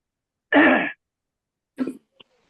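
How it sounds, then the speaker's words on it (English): A single harsh throat clearing, followed a moment later by a shorter, softer grunt-like rasp and a tiny click. "You're clearing your throat."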